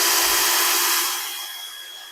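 A Grosser GCD 161KBT cordless drill whirring at a steady high pitch, close and loud, then easing off to a lower, quieter hum partway through; no one speaks.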